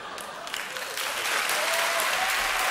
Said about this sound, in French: Arrêtez d'applaudir sans arrêt pour des bêtises.